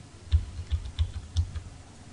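Computer keys pressed during 2D animation in-betweening software work, about five separate soft taps at an irregular pace, close and fairly quiet with no talk.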